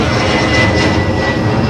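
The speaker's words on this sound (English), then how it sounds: "You might hear the airplane that just went over by" A loud, steady roar of an airplane engine overhead, a broad rumbling drone with a faint whine, no voices.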